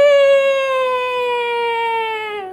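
An ambulance siren sounds one long, sustained tone, rich in harmonics, that sags slightly in pitch as it fades toward the end.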